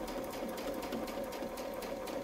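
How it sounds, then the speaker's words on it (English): A sewing machine stitching a Westalee Spinefex quilting design runs in a fast, steady, even whir of needle strokes, close and continuous with no talking. "So there is our last rotation being sewn in."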